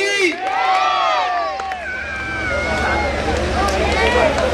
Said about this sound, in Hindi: जोरदार तालियां बोले बालाजी महाराज की